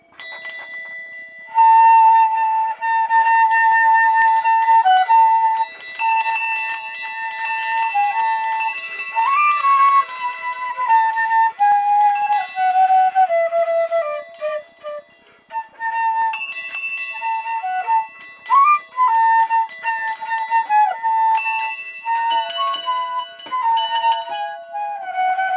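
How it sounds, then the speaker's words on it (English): A Christmas tune rings out on a bell, a melody of clear, sustained struck tones following one another steadily for about twenty-five seconds, moderately loud and close with no talking. "It'll be on this bell here."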